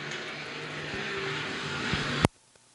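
B-Mod race cars roaring around the Lakeside speedway on a green-flag restart, a loud sustained engine drone that cuts off abruptly near the end.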